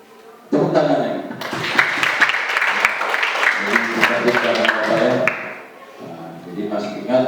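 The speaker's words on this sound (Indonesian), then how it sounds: "Tepuk tangan lagi" Applause breaks out in a classroom, a burst of clapping from a group of students that lasts several seconds, then fades and picks up again briefly at the end, with voices mixed in.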